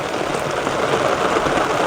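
Monsoon rain pours down on a Gujarat village, a dense, even hiss that stays loud and close throughout with no voices.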